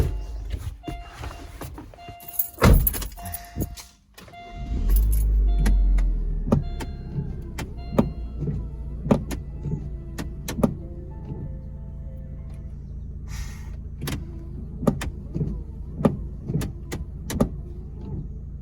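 A Chevy Aveo windshield wiper motor runs during a test after replacement, giving a low electric hum with regular clicking and thumping strokes repeating at a steady rhythm, close by and without talk.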